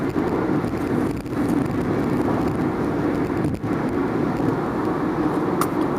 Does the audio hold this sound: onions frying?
no